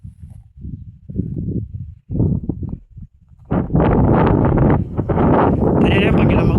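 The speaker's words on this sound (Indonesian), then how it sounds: "Lihat angin kencang sekali, guys. Angin tuh kencang kali" Strong gusting wind buffets the microphone at an outdoor site near a copra warehouse, swelling into a loud sustained roar in the second half after someone talks over lighter rumbling.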